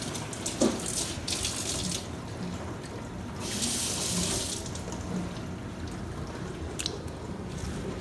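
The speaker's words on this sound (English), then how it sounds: "So I'm going to wash these off and put them," Running tap water splashes over vegetable stalks being washed in a kitchen sink for broth, a steady rushing flow with louder bursts as the stalks move under the stream.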